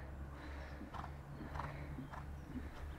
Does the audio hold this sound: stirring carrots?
no